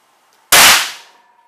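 A single loud, close gunshot from a 9mm pistol firing a G2 Research RIP round into a protective vest, a sharp blast that tails off quickly into quiet.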